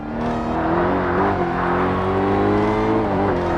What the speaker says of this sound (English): this Koenigsegg gets up to speed very quickly